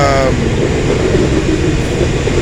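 A train rolls past close by with a loud, steady rumble and rattle of wheels on rails, a brief high squeal at the very start, with no talking.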